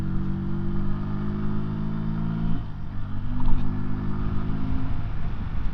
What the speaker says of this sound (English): So as we go into the 60, nice smooth pull away, nice smooth gear change.